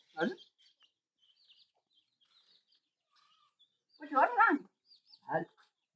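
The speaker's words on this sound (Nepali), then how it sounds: "दुईटा भाले" Two village roosters give short clucking calls, a brief cluck at the start, then a louder burst and another short call near the end, separated by quiet with faint background chirps.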